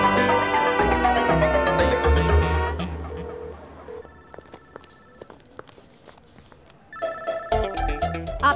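A mobile phone rings in a comedy film scene, its electronic ringtone trilling in repeated bursts and stopping, then starting again, with music in the opening seconds and light movement noises between rings.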